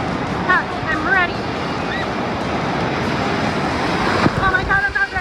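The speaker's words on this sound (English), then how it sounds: "The wave pool here is not for the faint of heart. It has tidal waves that can reach up to 6 feet." Tidal wave rolling through a water park wave pool, a broad rushing wash of surf under wind buffeting, with distant shrieks and voices of swimmers over the roar.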